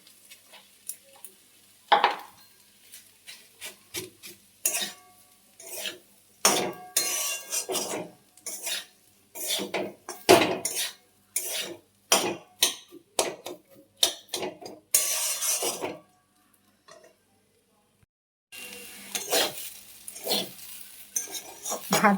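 Fried rice is stirred in a pan with turmeric, salt and green chilli, a metal spatula scraping and clinking in quick irregular strokes, loud and close, with short pauses between bursts and no talking.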